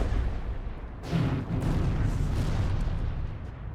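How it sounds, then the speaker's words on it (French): A distant explosion in a film rumbles as a low, sustained boom that swells after about a second and rolls on without speech. "Ça ressemble à une explosion."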